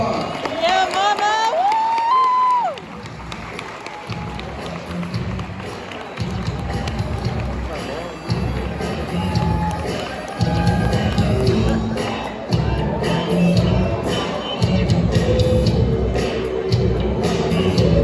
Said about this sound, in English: please help me welcome Ms. Erika Gonzalez with a big round of applause.